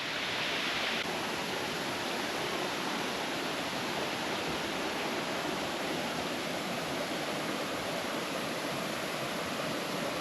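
Taixing waterfall on Aye Creek, a rocky riverbed in Meishan, Chiayi, running at low flow, makes a steady, even rush of falling water that holds constant throughout, with no voices.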